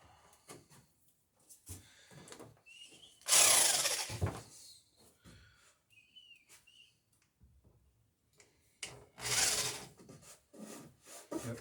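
A drill bores through a wooden dory plank during riveting work in two loud, harsh bursts, separated by quiet handling noises and faint tool whines.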